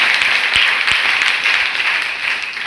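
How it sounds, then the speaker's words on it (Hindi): College audience applauds NCC cadets and their guide at an event: dense, loud, continuous clapping from a crowd, steady for the whole stretch without talk. "आप जोरदार तालियां बजाइए"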